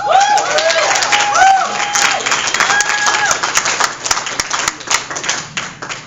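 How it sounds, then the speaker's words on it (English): Audience at a comedy night applauding a newcomer comic, with dense clapping, a few whoops and raised voices mixed in, and the clapping thinning toward the end. "please give a warm round of applause to Leslie Battle"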